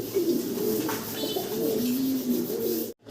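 Red Bombay pigeons give several close, clear coos, low warbling calls that repeat over about three seconds before cutting off abruptly, with no voice over them.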